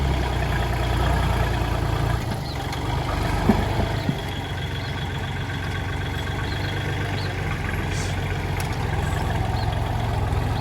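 A farm tractor engine runs steadily, a low continuous rumble that stays even throughout, close by, with a few faint knocks and clicks over the drone.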